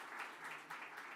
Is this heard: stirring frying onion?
no